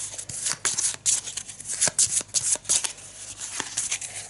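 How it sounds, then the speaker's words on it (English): A deck of game cards is shuffled by hand at close range, a steady run of soft riffling and rubbing swishes with small pauses and no talking. "now we shuffle these"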